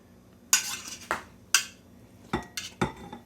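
A fork clinks and scrapes against a dish while steamed pumpkin is moved into a bowl, several sharp metallic taps and short scrapes in an irregular rhythm, close and fairly loud, with no talking.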